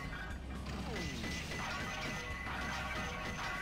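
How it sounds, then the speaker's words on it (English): Clay pots being smashed in the Sonic Adventure 2 video game, a quick series of crunching, clattering breaks and rattling debris over game background sound, fairly faint and without speech. "you can smash these pots."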